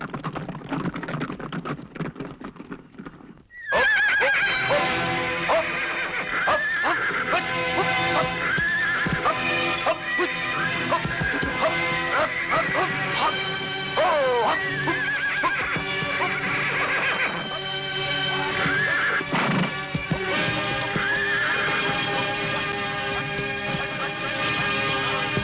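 A horse whinnies repeatedly over a busy clatter of clip-clopping hooves, loud and close, with some background voices mixed in, following a brief quieter stretch at the start.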